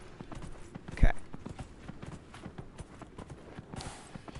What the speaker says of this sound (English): Run faster, horsey.